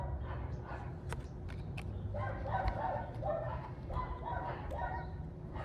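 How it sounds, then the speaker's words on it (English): Several dogs bark and yip repeatedly at a moderate distance, the barks arriving in uneven bursts over a steady low background rumble. "See how those dogs just keep barking?"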